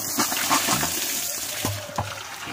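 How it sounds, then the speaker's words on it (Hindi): Strong water flows and splashes in a hilly outdoor spot in the morning, a steady rushing wash with occasional louder splashes, near and fairly loud, with no talking over it. "देखो कितना तेज पानी आ रहा है।"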